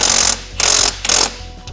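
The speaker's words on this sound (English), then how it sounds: "And now we're ready to tighten up the axle lock nut and the axle decorative nut." Wrench tightening the rear axle lock nut on a CSC ES5 electric scooter, heard as three loud, close ratcheting bursts with short pauses between them.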